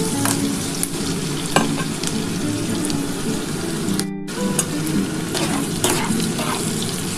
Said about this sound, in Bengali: বন্ধুরা দেখো, পেঁয়াজটা মোটামুটি আমার ভাজা হয়ে গেছে